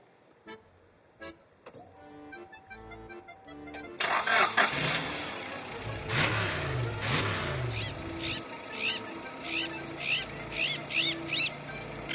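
A car engine by the Kitoy River cranks and catches about a third of the way in, then runs steadily nearby, with a few faint clicks before the start and repeated high chirping squeaks near the end.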